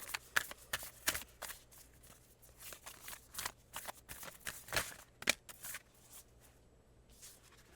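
Tarot cards are shuffled close up in a run of crisp, quick riffling snaps and soft slides, irregular bursts repeating over several seconds with no voice.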